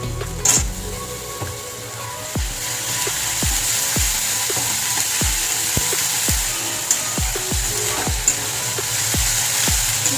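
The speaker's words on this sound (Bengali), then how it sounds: "রসুন বাটা দিয়ে কষে নিয়েছি এবার দেবো একটু আদা বাটা" Spice paste with garlic paste frying in a pan gives a steady close sizzle, broken by sharp scraping and stirring clacks that recur roughly every second throughout, with no talking.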